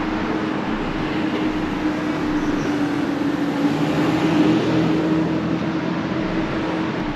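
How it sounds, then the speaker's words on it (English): Steady road traffic rumbles continuously, a broad low hum with a faint engine drone that swells slightly midway, fairly close and unbroken, with no voices. "They probably get hella traffic noise."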